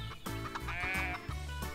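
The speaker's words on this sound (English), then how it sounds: "I don't think the sheep should live here anyway." Sheep bleat in the cosy farm game Everdream Valley, a close, wavering animal cry that rises and holds for about a second before a shorter bleat follows, loud and alone.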